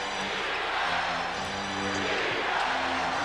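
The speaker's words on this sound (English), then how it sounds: "Chant of defense from the Madison Square Garden crowd" A packed Madison Square Garden crowd at a 1997 Bulls–Knicks basketball game chants in a steady roar, with sneaker squeaks and ball bounces underneath.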